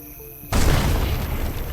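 A bomb detonates in a video game with a sudden loud boom after a brief quiet lead-in, followed by a sustained roaring rumble and debris noise that fills the rest of the moment.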